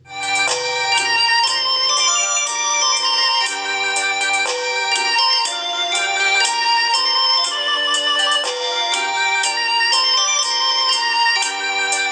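A mobile phone blares a loud, looping melodic alert tone from an adware notification, bright chiming notes repeating continuously with no talk.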